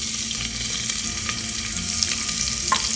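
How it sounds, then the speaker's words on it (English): Dry red chilies frying in hot oil for dal fry, a dense close sizzle with light crackles and soft stirring scrapes, steady and alone. "We will mix these together and let them fry for around a minute or so."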